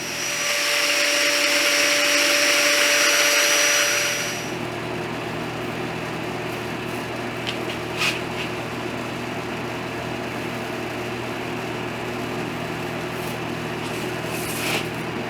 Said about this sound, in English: Now we're ready to cut our dominoes into the plywood.